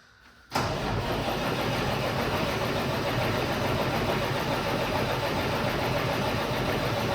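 A Peterbilt 389 truck's diesel engine, due for an in-frame rebuild, catches almost at once and settles into a loud, steady, close rumble that continues to the end.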